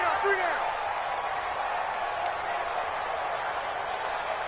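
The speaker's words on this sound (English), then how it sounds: "The crowd getting into it as we come up on a big 3rd down." Crowd noise in an American football video game on PS4 as a big third down approaches: a steady roar of cheering fills the clip, with a brief whistle-like sweep near the start.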